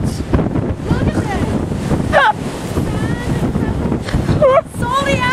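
Surf washes and wind buffets the microphone on Bridport beach, a steady loud roar broken by a few brief high, warbling cries; a person seems to be nearby.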